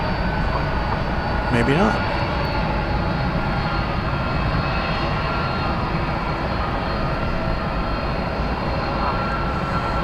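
A 21-year-old Airbus A300 bound for Ontario, California, taxis at DFW Airport with a steady, droning engine hum that stays even and fairly loud, while a brief voice speaks over it.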